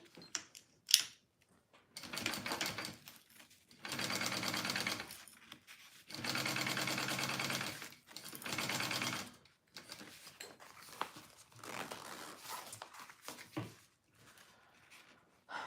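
Domestic sewing machine stitching fabric pieces for a crossbody bag, running in three steady bursts of a few seconds each, separated by quieter handling noises and short pauses.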